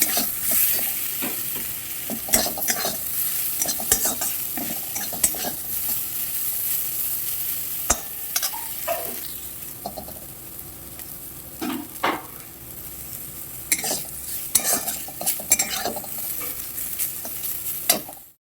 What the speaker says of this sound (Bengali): ভালো করে এবার কলাটা কিন্তু ভেজে নেব আমি।